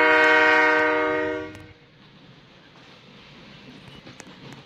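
A train horn blares steadily in a video game for about a second and a half, then cuts off and leaves a low, rumbling rail noise that carries on quietly.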